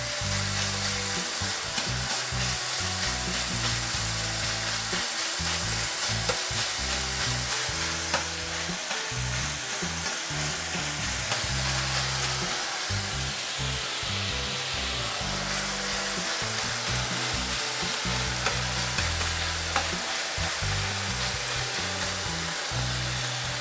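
Bacon fries in a pan with a loud, steady crackle and sizzle, broken by the scrape and clatter of stirring throughout, close and without any talking.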